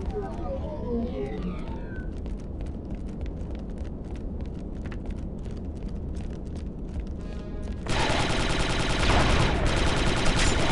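Rapid bursts of automatic gunfire in Star Wars: Republic Commando crackle over a dense rumbling backdrop, growing louder and harsher in the last few seconds.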